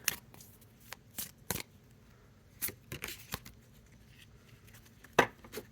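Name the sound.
shuffling a deck of oracle cards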